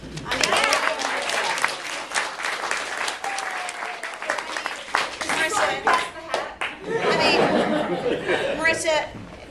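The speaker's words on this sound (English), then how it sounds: "let's do a round of applause for Marissa." Audience at a roast dinner in an Italian restaurant breaks into a round of applause, dense clapping mixed with chuckles and chatter, loud and close, swelling again near the end.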